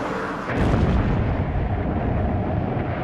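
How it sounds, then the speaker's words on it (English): Heavy anti-aircraft fire aimed at low-flying World War I bombers, heard as a dense, continuous roar of booming blasts that swells after a brief lead-in and stays loud throughout, with no voices. "The bombers, flying low to drop their load, came under increasingly heavy anti-aircraft fire."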